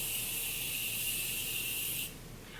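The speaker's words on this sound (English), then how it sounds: "setting your makeup with a spray, whether it's a setting spray or a dewy mist" Makeup setting spray hisses from a mist bottle in one continuous burst lasting about two seconds before cutting off, close and fairly quiet.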